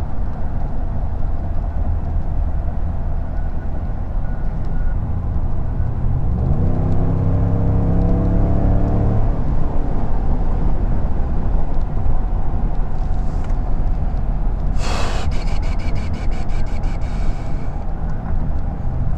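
A Ford F150 pickup truck drives on an open road running on an empty fuel reading, heard from inside as a steady loud engine and road rumble, with a rising shift in engine tone midway and a brief chime near the end.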